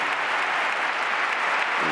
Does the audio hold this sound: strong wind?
no